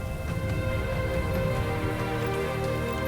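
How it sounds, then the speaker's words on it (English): Steady, dense patter of falling rain in the Silver and Blood video game, a rain of blood, loud and continuous with no pauses over a low rumbling backdrop. "Oh look, it's raining again."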